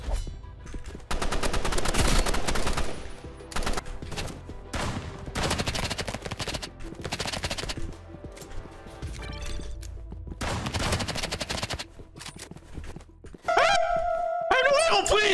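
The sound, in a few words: gunfire from a video game, Roblox Rivals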